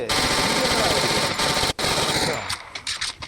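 Rapid automatic gunfire rattles loudly and nearly continuously in a Free Fire battle royale ranked match, then breaks into a few scattered shots toward the end, with faint voice underneath.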